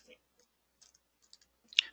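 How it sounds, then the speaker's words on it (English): Sparse clicks of typing on a computer keyboard, a few faint isolated keystrokes, then a sharper cluster near the end, with quiet gaps between. "Let me go down here and just do some typing."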